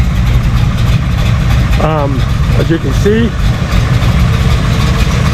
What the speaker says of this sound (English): Okay, here's the car running.